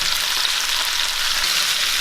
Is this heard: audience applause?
no